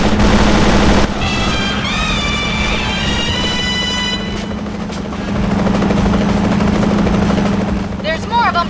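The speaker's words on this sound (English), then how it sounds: "Watch out for that helicopter!" A helicopter thumps loudly and steadily in 007: Agent Under Fire, joined by bursts of gunfire during a vehicle chase, with voices speaking over the din.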